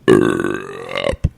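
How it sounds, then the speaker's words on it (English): One long, loud, throaty burp rolls on for about a second nearby, followed by a brief gulping sound. "That was a burp, because you said burp."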